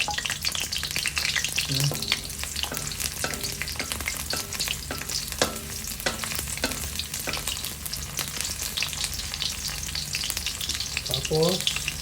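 Garlic sautés in hot oil in a pan for Filipino squid adobo, a steady close sizzle and crackle with occasional scraping stirs, and a brief word spoken near the end.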